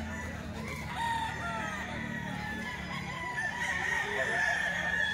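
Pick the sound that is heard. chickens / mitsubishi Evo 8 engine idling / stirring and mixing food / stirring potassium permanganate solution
chickens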